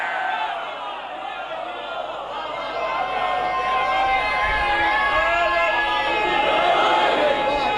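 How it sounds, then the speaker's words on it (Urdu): Large Muharram majlis crowd raising religious chants together, a dense sustained wall of many voices that builds louder toward the end. "واہ بھئی نعرے توارے دی کیا بات ہے"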